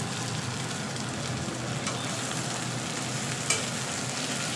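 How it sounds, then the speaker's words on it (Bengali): Spice paste sizzles in hot oil for a jackfruit curry, a steady, fairly quiet crackling hiss with a faint stirring clink, heard close and without voices. "ভালো করে মশলাটা কষিয়ে নেব"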